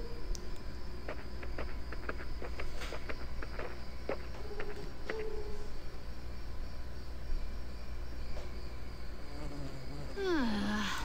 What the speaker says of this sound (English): Noisy, disgusting bugs that buzz around and crawl all over and bite you